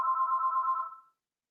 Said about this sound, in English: y'all hear my phone ringing